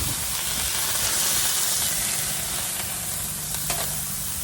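A smash burger is pressed onto a hot Blackstone griddle, giving a loud, steady, hissing sizzle that holds without a break throughout. No one speaks.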